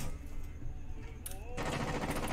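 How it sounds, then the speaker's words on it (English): Gunfire in the Rainbow Six Siege video game, a dense rapid burst of shots that continues for the whole short stretch over a loud, busy game mix. "They were shooting at the hostage."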